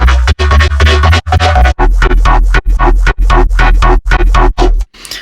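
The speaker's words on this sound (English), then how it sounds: "the main piece of the track is that bass line with the chord on top" An electronic track plays a heavy, deep bass line in punchy repeated stabs with a chord layered on top, chopped by brief rhythmic gaps before ending in a short fade.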